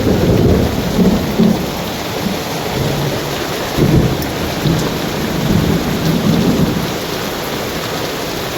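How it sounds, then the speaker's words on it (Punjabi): Steady, loud rain and hail hiss and patter on surfaces while low thunder rumbles roll through, a heavy hailstorm with no voices. "ਪੈ ਗਏ ਨੇ ਗੜੇ"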